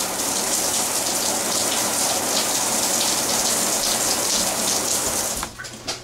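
A Delta In2ition shower head sprays water in a loud, steady, close rush of gushing and splashing. The flow stays constant for several seconds, then abruptly drops away.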